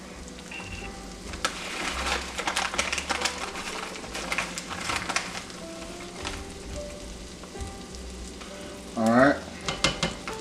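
Flour is stirred into hot fat in a pan to start a roux for Cajun seafood pasta, giving a soft steady sizzle with scraping stir strokes close by, and a brief spoken remark near the start.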